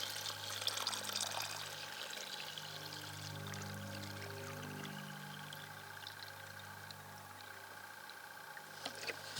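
Unfiltered creek water poured into a wide-mouth LifeStraw Flex bottle, a soft continuous gurgling pour that swells and then tapers off, close and fairly quiet with no voices.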